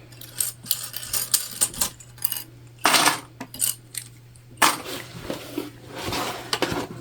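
Small metal sewing clips being pulled off fabric and set down one after another, a series of sharp close clicks and clinks in an irregular rhythm with short pauses between.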